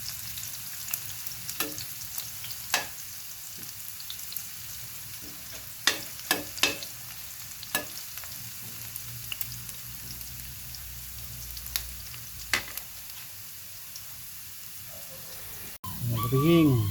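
Garlic and onion sauté in a pan, sending a soft sizzle with scattered sharp pops and crackles and a few stirring clicks. A brief burst of voice comes at the end.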